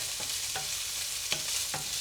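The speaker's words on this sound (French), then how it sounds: "Je fais chauffer un wok avec de l'huile de cuisson." Onions frying in oil in a seasoned steel wok, a continuous close hiss of sizzling with a few soft scraping strokes as they are stirred.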